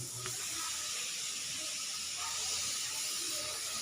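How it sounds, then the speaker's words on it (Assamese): Sugar water boils in a pot, giving off a steady, close hiss with a faint bubbling texture that continues unbroken and without talk. "চেনি পানী উতলাইছোঁ"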